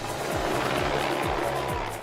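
A helicopter filming overhead during an action movie shoot in Rio de Janeiro, its rotor chopping in a steady, loud rhythm that fills the whole stretch with no voices.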